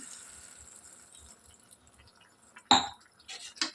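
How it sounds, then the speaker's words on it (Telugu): After a quiet stretch, a short splashing burst of about half a glass of water poured into a pan of cabbage curry, followed by a couple of smaller splashes. "ఇందులో ఒక హాఫ్ గ్లాస్ వరకు వాటర్ యాడ్ చేస్తున్నాను"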